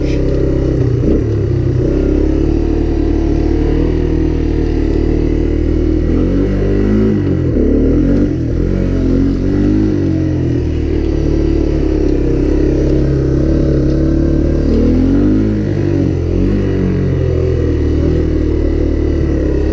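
A Honda Big Red 250 three-wheeler runs while being ridden, its engine a loud, continuous mid-pitched drone that rises and falls slightly with throttle throughout.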